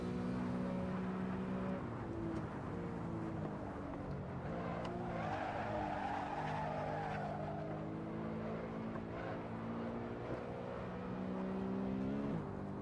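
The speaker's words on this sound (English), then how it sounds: "Oh, Mark going sideways on the exit there." Race car in an Assetto Corsa SRS league race slides sideways on a corner exit, its tires squealing briefly over a steady, loud engine drone that holds throughout.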